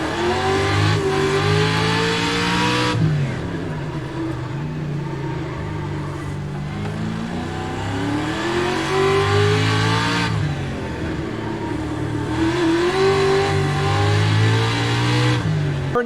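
Several Pro 2 race car engines rev loudly in an eSports racing game at a Long Beach street circuit, pitch rising and falling through repeated gear changes and throttle lifts, sustained throughout.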